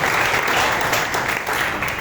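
A church congregation claps steadily in a dense, loud burst of applause, with no voices standing out above it.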